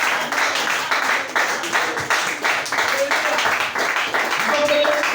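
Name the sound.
applause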